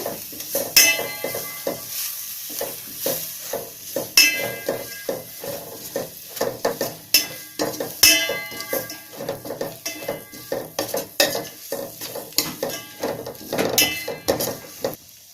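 Coriander and mint leaves being stirred into egg biryani in a pot: repeated scraping and clanking of a metal spoon against the pot in an irregular rhythm, with a faint sizzle underneath.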